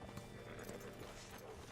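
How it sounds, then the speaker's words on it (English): Horse hooves clip-clop steadily in Red Dead Redemption 2, a continuous muffled gallop under faint background noise with a brief whinny-like tone, and no talking. "Hitch your horse up here."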